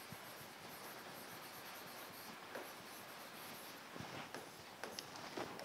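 A pen or pencil writes out an answer to a biology question, making a soft continuous scratching on paper with a few light taps near the end, close but quiet, with no talking.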